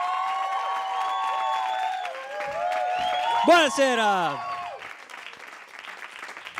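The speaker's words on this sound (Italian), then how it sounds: "Vi chiedo un applauso enorme" Studio audience applause at an Italian comedy roast, steady clapping under a man's spoken greeting and other voices, with a brief swell of cheering in the middle before the applause thins out.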